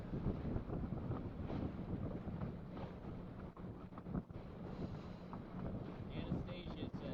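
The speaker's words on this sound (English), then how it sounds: "you still have these massive puffs ripping through the trees" Strong, steady wind roars and buffets the microphone during a sailboat race, with gusts rising and falling continuously and faint water and boat sounds beneath.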